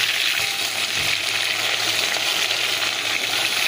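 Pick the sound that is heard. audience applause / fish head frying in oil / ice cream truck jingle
fish head frying in oil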